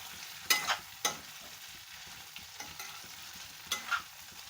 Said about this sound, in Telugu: చూడండి ఈ విధంగా బాగా కాస్త రోస్ట్ అయ్యే వరకు మనం వీటిని ఫ్రై చేసేసుకోవాలి.